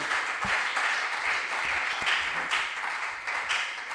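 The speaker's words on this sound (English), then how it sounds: "A round of applause for them." Audience applause at a junior science and maths quiz regional qualifier in the Ashanti Region, a steady wash of clapping from a school crowd that holds at an even level throughout with no talk.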